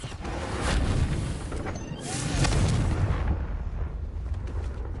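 Confringo blasting spell explosions in Hogwarts Legacy, two heavy booming bursts with rumbling tails, the second swelling larger before fading into quieter game ambience.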